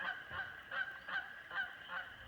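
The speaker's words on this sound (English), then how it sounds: "we got some Canadian geese on the pond here." Canada geese honk on a beaver pond at a state park lake, a series of about six nasal honks in a steady rhythm, fairly faint and heard alone.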